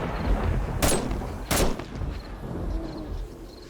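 Two loud sniper rifle shots ring out about 0.7 seconds apart in the zombie survival game 7 Days to Die, each a sharp crack with a short echoing tail over a low game ambience.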